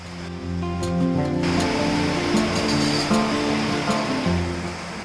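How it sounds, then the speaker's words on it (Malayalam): Heavy rain pours in a dense, steady hiss outside a home during a monsoon morning. A soft melodic tone plays beneath it. "ദേ മഴ നോക്കിയാൽ നല്ല ശക്തമായിട്ട് വരെയാണ്"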